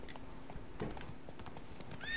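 Hooves of Roach, a horse in The Witcher 3 video game, gallop in a steady rapid clip-clop through the whole stretch, with a brief whinny in the middle and a faint voice near the end.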